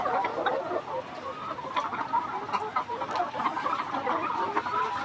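Layer hens clucking steadily on a poultry farm, many birds close and overlapping in a busy, continuous chorus with no voices.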